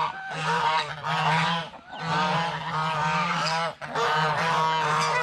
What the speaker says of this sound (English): let's follow the geese